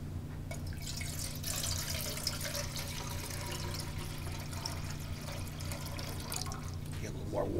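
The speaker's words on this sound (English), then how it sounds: "Add water." Water pours steadily into a mess kit pot on a camp burner, a continuous close trickle with light dripping throughout.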